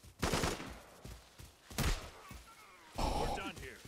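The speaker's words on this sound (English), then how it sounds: "The gunshot to the head, brother." Gunfire from the video game Arena Breakout: several sharp, close bursts of shots with thuds, spaced across a few seconds, with faint voice sounds between them.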